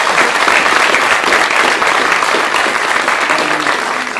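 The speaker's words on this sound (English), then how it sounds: "let's give another round of applause to the police department" Steady, dense applause from a crowd at a city council meeting honoring the police department, loud and sustained throughout with no voices on top.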